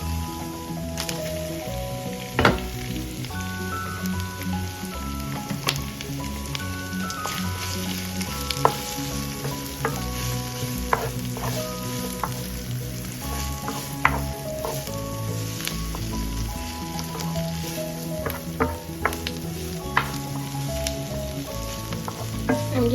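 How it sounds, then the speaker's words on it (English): Tomatoes and meat sizzle steadily in a pan for an ampalaya dish, a continuous close frying hiss with occasional stirring scrapes and soft wet squishes. "I'm just gonna keep cooking this until the tomatoes are soft."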